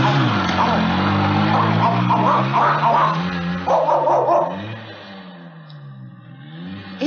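Dogs barking in a cartoon as a villain on a motorbike tries to cross a bridge, the yips and barks layered over busy music and effects at a steady loud level, fading somewhat toward the end.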